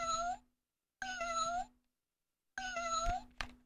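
A kitten meows three times with clear pauses between calls, close and fairly loud, each cry a drawn-out tonal mew, with a faint steady hum underneath.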